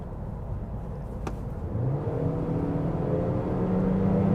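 A 2020 Honda Civic and a 2020 Toyota Corolla, both with CVTs, accelerate side by side in a race, giving a steady, rising engine drone with a whirring tone that climbs in pitch and stays close and moderately loud.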